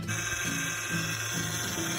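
A steady, high-pitched power steering whine from a car low on power steering fluid runs continuously under a low engine hum, with the pitch wavering slightly throughout.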